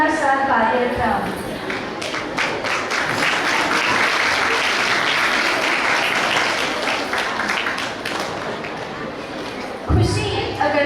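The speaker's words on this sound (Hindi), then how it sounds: "दिल खोलकर तालियां बजाइए जनाब" Sustained applause from an audience at a religious stage programme for a first profession ceremony, loud and dense for about ten seconds with a voice heard over it near the start and end.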